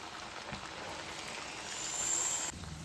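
Raw banana flour vadas deep-frying in oil over a low flame give a steady, even sizzle and crackle, close and moderately loud, swelling slightly toward the end.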